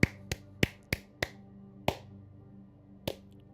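Several sharp hand claps made as an audio sync test, about six or seven spaced irregularly over a few seconds, each crisp and close, over a low steady background hum with no talking.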